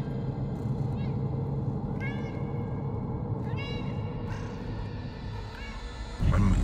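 A cat meows repeatedly at night in an abandoned village, several short rising calls spaced over steady background noise, with a louder rustle at the end.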